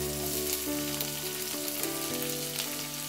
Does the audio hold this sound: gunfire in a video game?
no